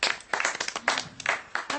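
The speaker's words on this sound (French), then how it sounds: "je mérite des applaudissements, là." A few people clap at home after a magic trick involving a banknote in a Babybel cheese, a short burst of close, uneven hand claps arriving in quick clustered bursts.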